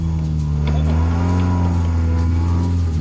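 A Chinese Jeep engine revs in the desert, a loud close drone with its pitch rising and falling as the throttle is worked, with no talking.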